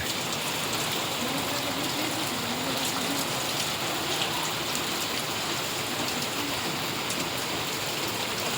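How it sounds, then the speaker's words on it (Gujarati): Heavy monsoon downpour in Gordka, Gadhada, Botad district, a dense, constant hiss of rain hitting surfaces, loud and unbroken for the whole stretch with no voices. "સરસ મજાનો વરસાદ આવી ગયો છે"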